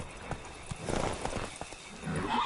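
Roach, a horse in the video game The Witcher 3: Blood and Wine, gallops with rapid rhythmic hoof clip-clops, close and prominent, and a brief whinny-like snort.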